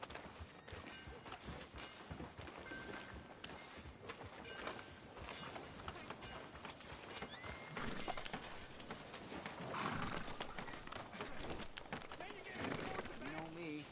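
Horse hooves clop in a busy, steady rhythm under talking voices in the Red Dead Redemption 2 video game, with street noise mixed in and no clear whinny.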